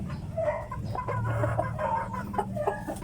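A gamecock breeder rooster of a gray Sweater line clucks in a farm setting, with several close, moderately loud clucks in an irregular rhythm and no talk.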